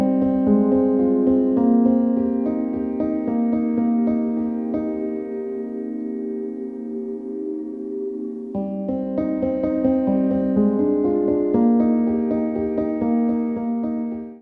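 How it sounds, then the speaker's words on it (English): A soft grand piano from a Kontakt instrument, layered with added sound-design textures, plays sustained chords with a gentle, ringing tone. It holds a steady level throughout with a brief thinning partway, and there is no talk. "it's a combination of the soft dynamics of a grand piano and also added with some other sound design layers"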